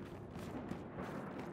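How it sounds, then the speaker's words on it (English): A low, steady rumbling roar of a storm in Gears of War 5, with faint thumps rolling under it and a voice speaking briefly. "Oh, that's the sound of the storm."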